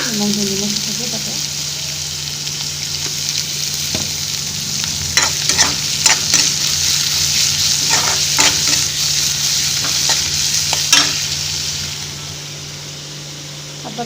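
Maggi noodles fry and get stirred in a pan, giving a close, steady sizzle with repeated scraping stirs over a low constant hum, and a voice speaks briefly at the start.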